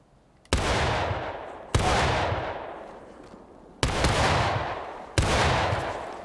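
Four loud, separate musket volleys from the Civil War game War of Rights, each a sharp crack followed by a long rolling decay, spaced unevenly over several seconds with no talk between them.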